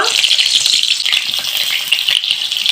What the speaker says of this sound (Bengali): এখন তেলটা গরম হয়ে গেছে আর এখন এই যে পুরভরা পেঁয়াজগুলো এক এক করে আমি এই কড়াতে দিয়ে দিব